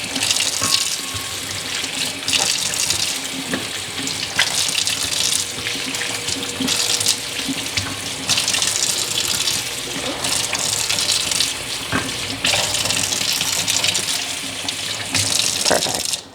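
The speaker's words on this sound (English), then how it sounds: "Now I'm going to give it a rinse." Whole avocados rinsed under a running kitchen tap, a steady broadband rush of water splashing into a sink for the full length, close and fairly loud, with irregular splatter shifts as the fruit is turned under the stream.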